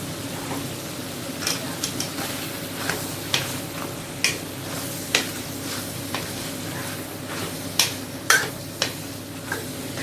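Country chicken and chopped coconut being stirred and fried in a pan for Pallipalayam chicken, with a steady low sizzle under repeated clinks and scrapes of the spoon against the pan.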